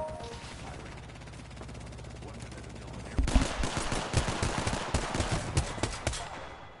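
Gunfire in Apex Legends: after a few seconds of low background hum, rapid automatic shots break out close and loud in uneven bursts, with faint voices in the mix.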